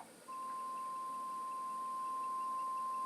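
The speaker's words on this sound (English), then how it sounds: "And we test with sine wave," A steady pure sine-wave test tone at C6, 1046 Hz, plays from a 100 W analog amplifier under test, starting abruptly after a moment and holding constant at a faint, even level.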